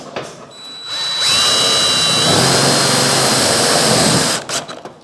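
A power drill driving a screw into metal whines steadily at high speed for a few seconds, loud and close, spinning up and then cutting off.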